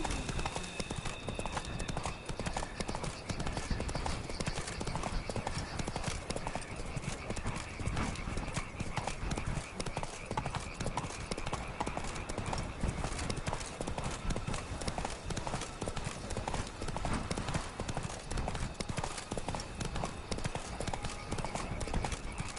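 Roach, a horse in The Witcher 3: Blood and Wine, trots with steady, continuous clip-clop hoofbeats close by, an occasional whinny mixed in over game ambience.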